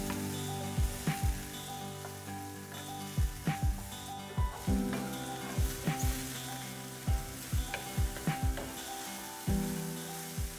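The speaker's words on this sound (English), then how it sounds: "3 tablespoons avocado oil. Garlic, ginger, and green onions. Saute for 2 to 3 minutes." Garlic, ginger and green onions sautéing in avocado oil over medium heat, a steady close sizzle broken by a series of sharp clinks and scrapes of a utensil against the pan, with no talking.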